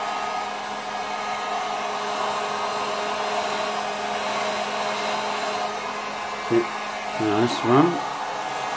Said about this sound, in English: I put the heat gun on low